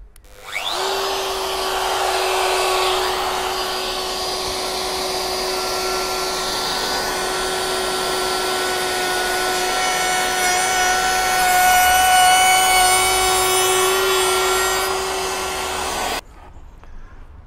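A router cuts a groove into a wooden trim board for a Mercedes Sprinter camper bulkhead, a steady loud high-pitched whine with grinding bite running continuously for about fifteen seconds before cutting off abruptly.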